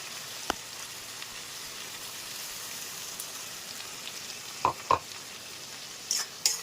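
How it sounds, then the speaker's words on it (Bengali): Ginger garlic paste with turmeric and salt frying with onions in a wok for a spicy tangra fish curry, a soft steady sizzle with a few sharp spoon scrapes near the end, no voices. "এবার পেস্টটাকে কড়াইতে দিয়ে একদম পেঁয়াজের সঙ্গে সুন্দর করে কষিয়ে নেব।"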